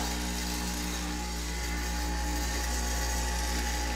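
Angle grinder left running on power from a 2400 W portable generator, a constant loud whine and hum filling the whole stretch without a break, close by and alone.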